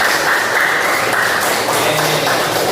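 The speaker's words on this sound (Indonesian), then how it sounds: "Tepuk tangan untuk kelompok 1." A classroom group receives applause: a dense, steady patter of many hands clapping together for a few seconds with no pause.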